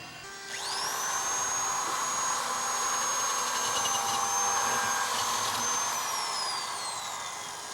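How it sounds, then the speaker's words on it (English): A power tool cuts a half-inch hole through a yacht hull: a sharp, high whine spins up after a brief moment, holds steady and loud for several seconds, then starts to wind down. "we need to cut our 1/2-inch hole in the hull so we can put our rod through to do the scribing"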